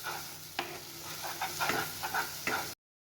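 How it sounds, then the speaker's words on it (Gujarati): Spices being stirred into green pigeon pea curry in a sizzling pan, a soft steady fry hiss broken by several sharp scraping strokes of the spoon before cutting off abruptly. "મસાલા ઉમેરીને બધું સરસ મિક્સ કરી લઈશું"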